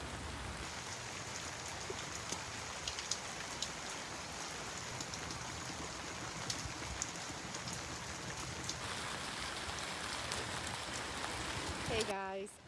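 Rain falls steadily on a garden, a dense continuous patter of drops across the whole stretch, close and even, with a brief louder rustle at the end.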